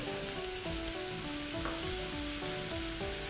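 Squid stir-frying with oyster sauce and seasoning sauce over high heat, a continuous loud sizzle filling the whole stretch alone, with faint occasional scraping.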